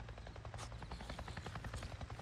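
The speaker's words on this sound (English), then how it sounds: "I can hear a helicopter." A helicopter in the video game Days Gone thrums faintly in the distance with a steady rotor chop, alone with no talk.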